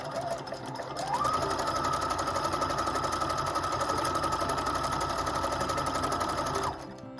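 A Husqvarna Viking #1+ sewing machine runs a decorative stitch pattern for about six seconds, its steady whirring motor close and loud, starting and stopping abruptly with no talk over it.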